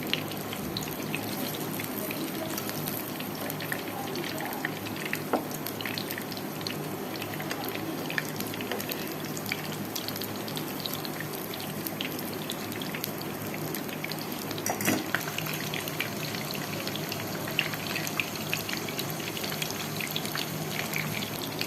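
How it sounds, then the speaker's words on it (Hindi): Peshawari chapli kebabs fry in a pan, giving a steady, close sizzle dotted with small crackles and pops that continue evenly throughout, with no speech. "कबाब हमारे दोनों साइड से अच्छी तरह फ्राई हो गए।"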